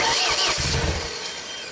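A damaged JLG lift's engine, left sitting for two years, cranks loudly and catches briefly, a rough mechanical churn that fades toward a steadier low run.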